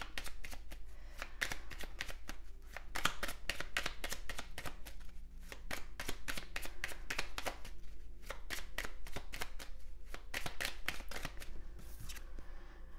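Oracle cards being shuffled by hand to draw an advice card, a steady run of quick papery riffles and flicks close up for the whole stretch, with no talking.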